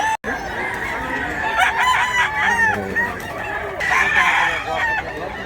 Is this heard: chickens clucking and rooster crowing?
yes